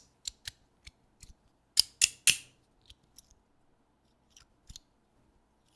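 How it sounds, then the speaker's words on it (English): Brass fidget slider with sliding plates clicking: sharp, close metallic snaps in irregular bursts, a tight cluster of three louder clicks midway, then scattered softer ones with quiet gaps, no voices. "And now we're able to hear how those slide plates sound."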